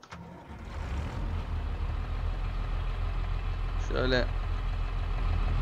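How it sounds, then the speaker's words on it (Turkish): A tractor engine in Farming Simulator 22 cranks and catches, then settles into a steady, rumbling idle close by, with someone speaking briefly over it. "Ben şu motoru marşı basayım."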